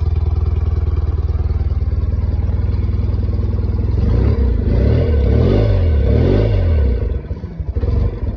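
A BMW R90S motorcycle engine runs close by, idling high and steady, then briefly revs and falls back toward a lower, uneven idle.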